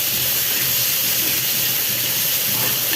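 Tomatoes hit hot frying onions in a pan with a loud, continuous hissing sizzle that holds steady from start to finish.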